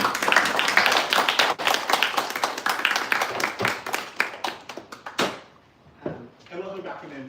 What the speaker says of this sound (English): one last round of applause for you.